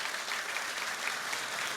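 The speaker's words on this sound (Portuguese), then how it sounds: "Todos vocês, uma salva de palmas para ela." A church audience gives a short burst of dense, steady applause, many hands clapping together at close range with no voices over it.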